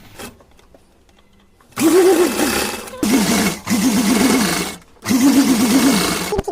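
An electric sewing machine stitches cotton tassels onto a small cotton doll dress, running in three loud bursts of rapid whirring with brief pauses between, after a quiet start.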